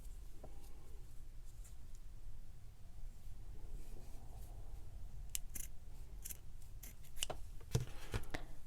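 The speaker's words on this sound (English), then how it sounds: "So I'm gonna go ahead and cut a piece of this off." Scissors snipping through a piece of fabric tag material, a few quiet close cuts near the end over a low steady background hum.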